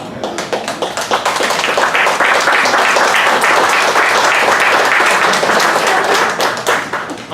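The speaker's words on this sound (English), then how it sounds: "I don't know why you're clapping." A church congregation claps together after a sermon. Sharp hand claps rise quickly into a loud, sustained burst and then thin out toward the end.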